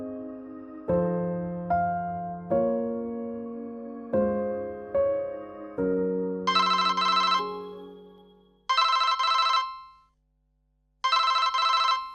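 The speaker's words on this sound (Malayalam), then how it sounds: "മോളെ, ഫോൺ ഞാൻ എടുക്കാം." A telephone rings: a short melodic run of tones, then three loud bursts of rapid electronic bell trilling separated by brief pauses, with no voices present.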